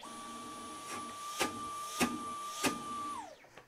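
Dyson vacuum cleaner running steadily with a constant high-pitched whine and airflow, a few soft thumps at intervals, then it winds down and stops near the end.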